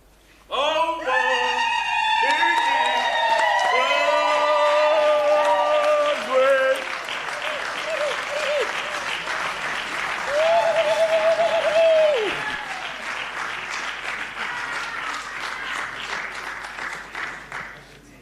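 An audience applauds at a memorial lecture. Loud, sustained clapping is overlaid with sung and shouted voices and cheering, then fades gradually toward the end.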